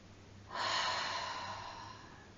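A single audible breath during a yoga exercise, a soft close inhale or exhale rising suddenly then fading slowly over a quiet background.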